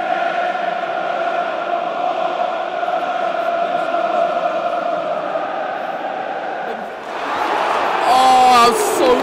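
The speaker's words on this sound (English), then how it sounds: "When the fans roar like that, it's so loud, it's deafening." Feyenoord fans at De Kuip roar as a sustained, droning crowd noise, loud and steady, then swelling further near the end with whistles and shouts rising above it.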